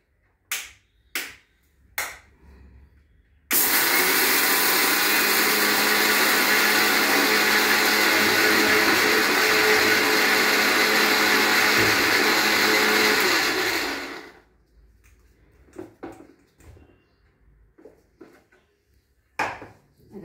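A kitchen mixer grinder whirs loudly and steadily for about ten seconds while grinding flaxseed chutney with salt and chili, framed by faint clicks and handling noises before and after.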